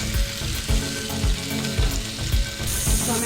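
Tomato, garlic and ginger fry in a pan with a steady sizzle, broken by soft periodic thumps of stirring.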